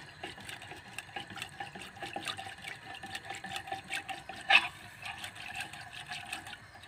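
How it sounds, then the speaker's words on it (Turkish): Cocoa being stirred quickly with cold milk in a pot on the stove, giving soft repeated scraping strokes at close range, with one sharper clink midway. "Hızlı hızlı karıştırıyorum."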